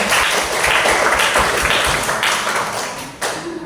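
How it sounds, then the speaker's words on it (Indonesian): A classroom audience claps together in a lesson, a loud, close, continuous patter of hands that holds steady and tapers slightly toward the end. "Kita tepuk tangan untuk itu"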